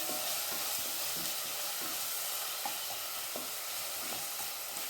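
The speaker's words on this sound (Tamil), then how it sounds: "2 நிமிஷம் நல்லா வதக்கிக்கலாம்." Crushed garlic sautéing in a pan for a potato and mochai (field bean) masala, a steady close sizzle and hiss of frying with faint stirring clicks throughout, no voices.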